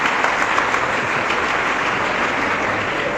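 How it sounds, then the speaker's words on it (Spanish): Audience applause for priests at a Catholic gathering with Padre Luis Toro, a steady dense wash of many hands clapping at close range, continuous for the whole stretch with no voices over it. "Aplausos pues para los sacerdotes que también nos acompañan"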